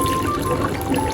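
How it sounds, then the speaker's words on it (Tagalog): Distilled water pours steadily over ice in a container, a close, continuous trickling splash throughout. "Lagyan natin ng tubig."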